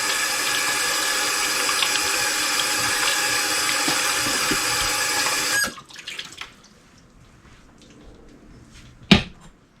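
Steady rush of tap water running into a sink as hands are washed during sausage making, loud and continuous for about five seconds, then cut off, followed by a few faint handling noises and a sharp clank near the end.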